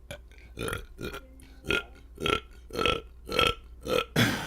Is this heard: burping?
yes